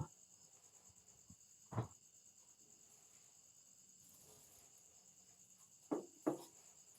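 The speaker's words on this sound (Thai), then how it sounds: "เสียงจิ้งหรีดธรรมชาติ" Steady high-pitched cricket chirping in a Minecraft game goes on throughout, faint and continuous, with a few soft knocks and thumps nearby.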